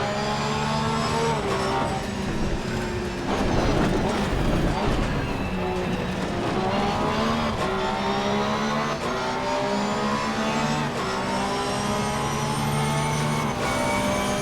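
Race car engine in the Assetto Corsa Competizione racing game at Mount Panorama, a loud sustained high-revving whine that climbs and drops through gear changes, with faint talk underneath.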